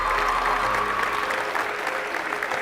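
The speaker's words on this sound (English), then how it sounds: "Round of applause for these athletes and their accomplishment." An indoor crowd at a school signing event claps steadily for student athletes, a dense, continuous patter of applause heard throughout with a faint background murmur.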